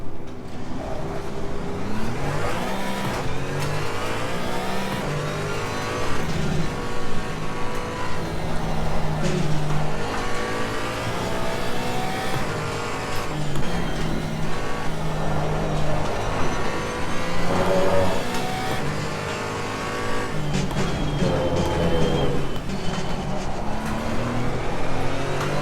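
Porsche Cayman GT4 race car engine in Assetto Corsa Competizione, droning continuously and loudly as it revs up and down through gears on track, with no talking.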